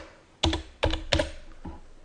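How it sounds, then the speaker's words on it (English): Four distinct keystrokes on a computer keyboard, close and crisp, spaced unevenly with the last one softer, in an otherwise quiet room. "let's type a few letters of his last name"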